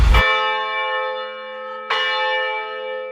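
Church bells ring out from the bell tower of a church in La Paz, Iloilo. Two loud, clear strikes sound about two seconds apart, and each long, humming tone rings on and fades slowly.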